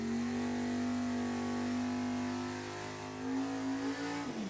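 A 2020 American-chassis drag racing car at an NHRA Division 7 bracket final holds a loud, steady high-pitched engine drone for about four seconds, then the pitch jumps and cuts off sharply at the end. No one speaks.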